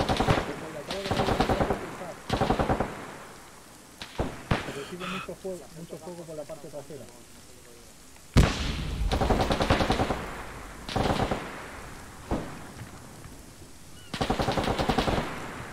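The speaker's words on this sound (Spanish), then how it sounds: "Le disparan a Campos." Loud bursts of rapid automatic gunfire in Arma 3 come in several separate volleys during a Spanish Civil War urban training simulation, with brief pauses and some talking between them.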